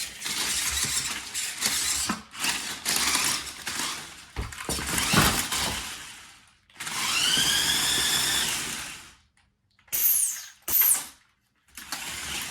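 Robot intake mechanism running in short bursts: whirring motor spin-ups with rising and falling whines, separated by brief pauses and clicks, close to the microphone.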